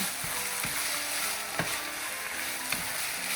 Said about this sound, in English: I'm gonna bring my cooked ramen noodles and I'm gonna dump it right in the pan. And I'm gonna mix it up.